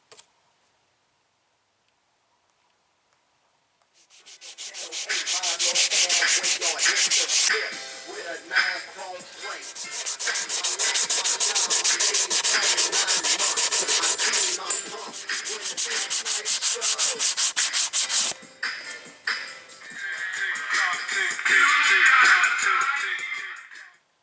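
Steady abrasive sanding of primed fiberglass door speaker pods for a Chevy, starting after a few seconds of silence and running in long loud rubbing passes with short pauses, close to the mic and without speech.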